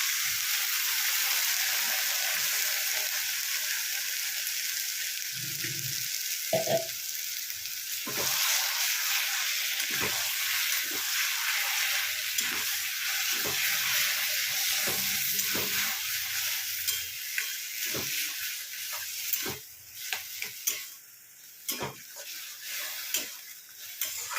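Greens frying in a pan as spices go in, a steady loud sizzle throughout with intermittent scraping and stirring knocks from a utensil, no talk.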